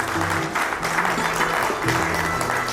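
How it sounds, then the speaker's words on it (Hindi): A burst of audience clapping fills a hotel function room during a business scheme launch event, with a tonal hum or music layered steadily underneath. "जितने भी लोग प्राउड जोरदार ताली बजाएंगे दिल से"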